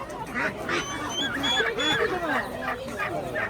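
Ducks and geese at a busy poultry bazaar give repeated quacks and honks nearby, with people talking among the birds.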